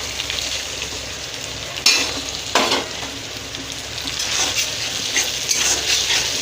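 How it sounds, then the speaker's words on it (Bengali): Spice paste sizzling with frying tomato in a pan for a soybean and potato curry, a continuous loud crackling hiss with a few sharper bursts where it is stirred, no talking. "এবার দেবো গুলে রেখেছিলাম সেই মশলাটা যে মশলাটা আমি জলে গুলে রেখেছিলাম সেই মশলাটা"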